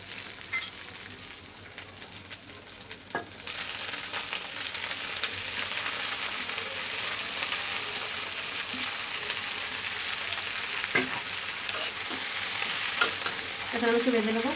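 Chopped kharkol leaves fry in a pan with a dense, unbroken sizzle that hisses on throughout, with occasional soft scrapes and knocks from stirring.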